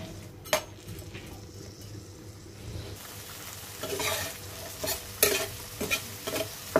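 Sea prawns fry in a pan with a continuous hiss of oil, broken by repeated scrapes and metallic clinks of a spatula against the pan.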